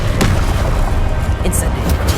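Confringo fire-blast spell in Hogwarts Legacy on PS5, deep booming explosive bursts with rumbling low impacts in quick succession, loud and close amid game combat noise.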